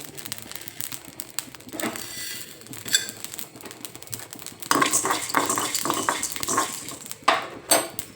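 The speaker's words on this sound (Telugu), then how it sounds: "ధనియాలు, జీలకర్ర వేయించుకుంటున్నాను. అలాగే మెంతులు, మొగ్గలు వేస్తున్నాను." Coriander seeds, cumin and fenugreek dry roasting in a pan, heard as dry clattering and scraping of seeds and a spoon against metal in uneven bursts, close and moderately loud, with no talking.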